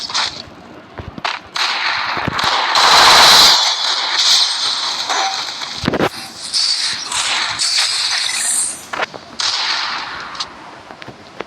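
Gunfire in the mobile shooter Free Fire, including sniper shots, comes as a series of loud, sharp cracks and whip-like bursts scattered irregularly over several seconds against busy game background noise.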